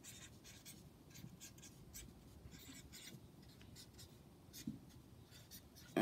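A pen scratches across paper in short, irregular strokes, faint and close, with no talking.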